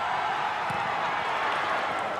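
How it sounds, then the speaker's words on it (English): A packed football stadium crowd at a Vietnam versus Malaysia Suzuki Cup match keeps up a steady, loud roar of cheering throughout, a dense wash of many voices with no single sound standing out. "And the crowd trying to play its part"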